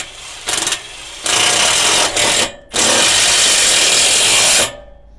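Cordless power drill drives a screw into wood with a clamp applying pressure under a chassis rail, giving several loud close whirring bursts that start and stop, then a long steady run before cutting off.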